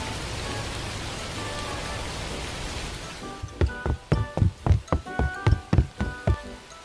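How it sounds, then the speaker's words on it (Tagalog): Rain falling in a Filipino cartoon, a steady hiss of downpour for about three seconds, then giving way to a run of about ten rhythmic thuds or taps. "Baka tumila na tong ulan, no?"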